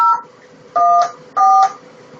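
Cellphone number dialed on a phone dial pad, three evenly spaced electronic dual-tone beeps, clear and loud against quiet background hiss.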